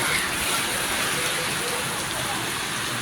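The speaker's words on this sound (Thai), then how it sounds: "ฝนตกครับ" Steady rain pours down in a continuous, dense hiss with no break.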